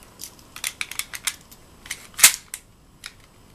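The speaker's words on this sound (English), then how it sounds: "And do some firing." An HG-170 gas blowback airsoft pistol firing, a quick series of sharp, close snapping cracks with the slide cycling, irregular bursts and single shots, one loudest crack near the end, no talking.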